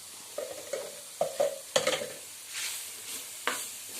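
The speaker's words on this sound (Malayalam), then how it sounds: "ഇനി വീണ്ടും ഇളക്കി" Grated carrot thoran stirred in a hot pan with turmeric, the spoon giving a run of close scraping, clinking strokes over a faint sizzle, with no voices.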